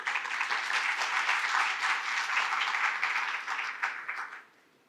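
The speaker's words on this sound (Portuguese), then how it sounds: "Uma salva de palmas, pessoal." An audience gives a round of applause at a hospital-sector regulatory conference, with steady crowded clapping that holds for several seconds and then quickly fades out.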